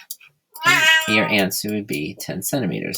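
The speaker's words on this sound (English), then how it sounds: "And that's my cat Zoe meowing." A pet cat named Zoe meows several times in a short run of close, clear, voiced calls, following a brief spoken phrase from a person.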